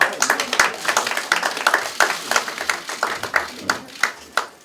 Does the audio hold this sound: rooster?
no